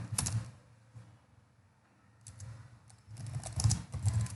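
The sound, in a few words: typing a command on a computer keyboard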